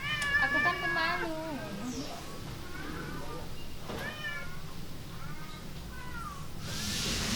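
A rescued kitten meows in a string of plaintive cries, loudest at the start and then fading, heard close up while a person talks over it.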